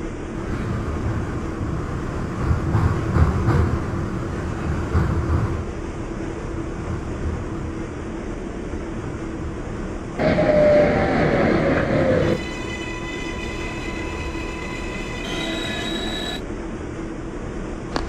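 An R142 subway train on the 6 local line in the OpenBVE simulator runs with a steady loud rumble of wheels and motors, a rising whine partway through and a chime-like tonal passage near the end.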